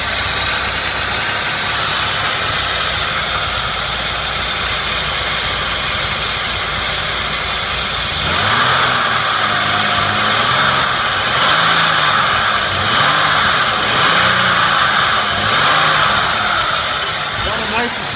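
A 2003 Ford Escape with a 3.0-litre engine runs steadily, a loud continuous hum with a rhythmic swelling pulse in the second half, and someone talks over it.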